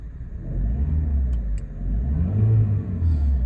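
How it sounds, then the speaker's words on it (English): A 2011 Volkswagen Polo 1.4 four-cylinder engine with DSG automatic gearbox idles with a low, smooth rumble, then revs up briefly and settles, heard up close with no talking. "I'm going to very quickly give it a rev."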